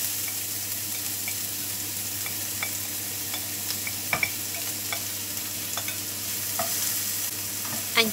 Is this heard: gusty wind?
no